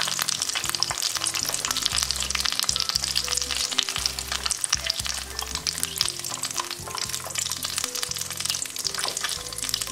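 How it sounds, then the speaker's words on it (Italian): Potato and mozzarella skewers deep fry in hot oil, a loud, dense and continuous crackling sizzle with bursts of popping bubbles, close up and with no talking. "E continuo a friggere tutti gli altri."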